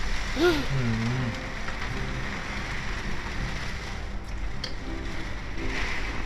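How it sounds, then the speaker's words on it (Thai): Rain falls steadily at a seaside hotel in Pattaya, a constant hissing patter on surfaces, with a brief voice near the start. "ฝนตกนะครับ"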